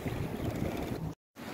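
Rubber dinghy out on a lake in eastern Finland among big waves, with heavy wind buffeting the microphone and a rough, continuous wash of water, close and loud, then a brief dropout before the roar resumes.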